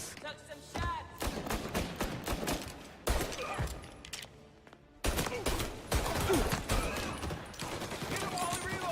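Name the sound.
gunfire in Mafia: Definitive Edition video game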